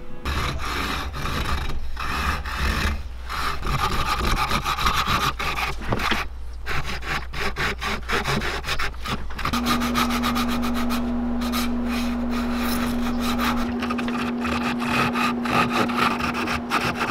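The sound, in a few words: sanding a wooden grayling swimbait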